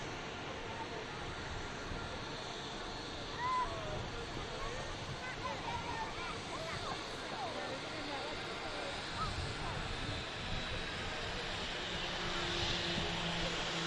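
Scandinavian Connect Airbus A320neo airliner bound for Stockholm on four-mile final approach at Manchester Airport, a steady distant jet roar with wind noise, continuous and fairly faint throughout.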